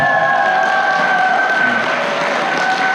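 A seminar audience of business owners at a Pyeongchang resort claps loudly and continuously, a dense crowd applause with steady tones ringing through it.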